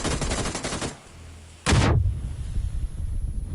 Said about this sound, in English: I hear the gunshots and trying to figure out the direction